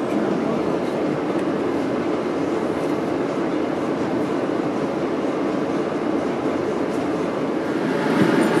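A D train on the subway rumbles past with a dense, steady roar and faint rail clatter, loud and unbroken throughout with a slight swell at the end.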